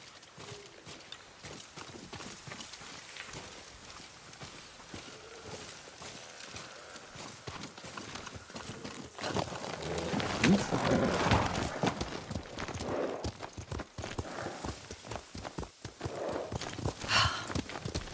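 Horse hooves clip-clop steadily at a walking pace while riding in the video game Ghost of Tsushima, a rhythmic clatter that grows louder midway, with voices talking over it.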